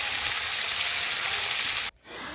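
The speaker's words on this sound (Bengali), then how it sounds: "তো দেখুন বন্ধুরা এক পাশ মাছের ভালোভাবে আমি ভেজে নিচ্ছি" Hilsa fish frying in a pan at home, a steady dense sizzle holding loud and even for about two seconds before cutting out abruptly, then returning more faintly.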